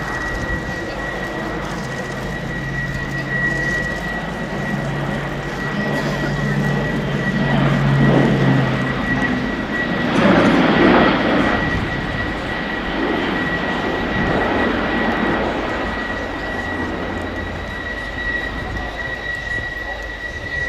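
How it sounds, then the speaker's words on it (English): An Airbus A400M propeller transport plane roars overhead in an airshow flying display, its engine drone swelling and fading with a steady high whine, while a voice talks over it. "This is one of the most impressive large aircraft displays I have ever seen."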